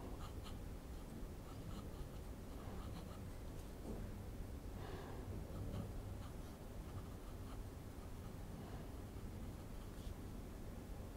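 A Pilot Kakuno fountain pen with an extra fine steel nib scratches faintly across paper in short strokes, very quiet under a steady background hiss.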